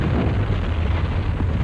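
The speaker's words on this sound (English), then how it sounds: "Then we'd send up an explosion to light it." Staged movie special-effects explosion built from gasoline and molded plastic charges, heard as a sustained, loud low rumbling roar with no distinct peaks, continuous throughout.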